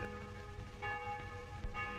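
Church bells ring faintly in the distance, a few soft strokes over a low background hum.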